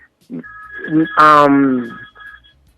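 A telephone rings during a radio talk show, its steady tonal ring sounding over and between a man's speech in a studio setting.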